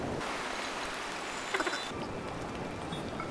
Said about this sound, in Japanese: すごいな、ここの滝。